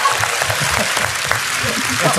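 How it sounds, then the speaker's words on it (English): Steady applause from an audience, a dense wash of clapping with some voices mixed in, moderately loud and continuous. "And of course, how about a round of applause for Jordan Taylor and Elly Brock?"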